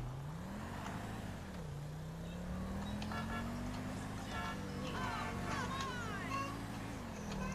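A newly bought and modified car drives in GTA Online on PC, its engine droning steadily and rising and falling in pitch through gear changes, with ticking and chirping game sounds layered above.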